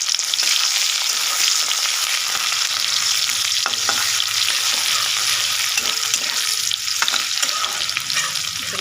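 Chopped onion fries in a pan over cumin for a lemon chicken masala, with a steady, loud, close sizzle and occasional soft stirring clicks throughout.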